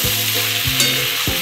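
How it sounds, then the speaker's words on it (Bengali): Dry spices with chili powder, turmeric and salt sizzle and fry in a pan while being stirred, a close, steady crackle broken by a few scraping stirs of the spatula, with no talking. "এবার এটাকে আমি ভালো করে একটু কষিয়ে নেব"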